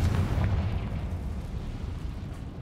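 A Confringo blasting spell goes off in Hogwarts Legacy, a loud, deep explosive boom with a rumbling low-end burst at the start that rolls on as a dense, sustained roar through the rest.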